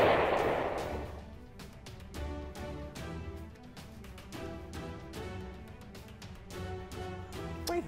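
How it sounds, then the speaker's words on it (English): A nuclear bomb goes off in a video game: a loud opening blast gives way to a long series of rapid, booming detonations that rumble on continuously without any talk. "Is that a nuclear bomb going off?"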